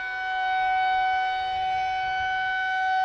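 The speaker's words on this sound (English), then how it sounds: "Siren is going off." A tornado warning siren in the Minecraft video game, a steady sustained wailing tone with even pitch lines, continuous and fairly loud for about three seconds with no talk.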